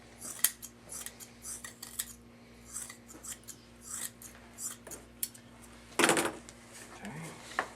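Scissors snip fiberglass chop into small pieces at close range, a run of quick crisp cuts ending in a louder clatter, with a faint steady hum underneath.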